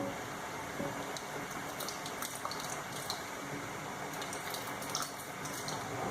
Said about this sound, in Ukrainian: Після того, як все закипить, відправляємо в кастрюлю зажарку.